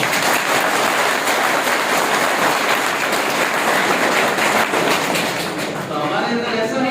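A crowd at a gathering of selected SSC-GD candidates claps in thick, continuous applause, loud and steady, with a voice speaking over it.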